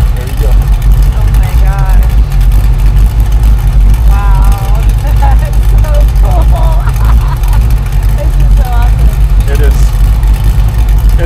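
A Superformance car engine fires up and settles into a loud, deep, steady idle rumble close by, with people talking over it.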